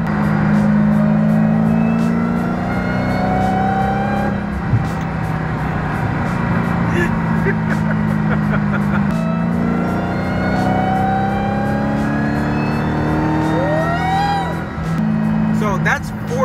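A car pulls hard through its gears into fourth, the engine note climbing and dropping at each upshift, loud and steady from inside the cabin with people talking over it.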